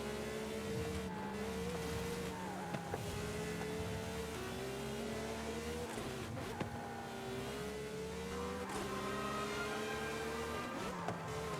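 A 2014 Lamborghini Huracan LP610-4 racing in Forza Horizon, its engine droning steadily and rising through repeated gear-change sweeps, heard faintly with occasional tire noise and no talk.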